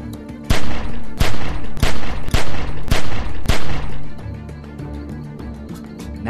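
Gunfire in The Walking Dead: 400 Days video game, six loud, sharp shots in a fairly regular rhythm over roughly three seconds, followed by a quieter tail of ambient sound.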